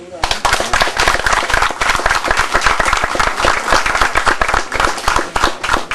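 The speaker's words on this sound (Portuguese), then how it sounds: "peço uma salva de palmas para eles." A round of applause at a Guarani cultural house in an indigenous village in Aracruz, Brazil: close, loud, sharp hand claps from a small group, continuous and uneven throughout.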